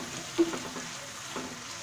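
Ground spice pastes of nut, black cardamom, nutmeg and mace fry together in a pan for chicken roast, a low steady sizzle with a few stirring scrapes and a brief clink.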